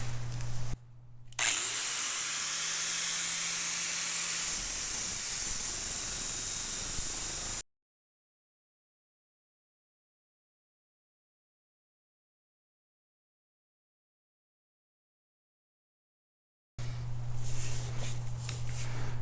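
Angle grinder shaving a Sterling ring gear from a Ford Super Duty rear axle, a steady high-pitched grinding whine for several seconds, then silence before the grinding resumes.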